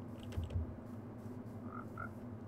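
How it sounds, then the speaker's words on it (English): Frogs croak in the Minecraft video game, a few short soft croaks over a steady low game ambience. "It's the frogs."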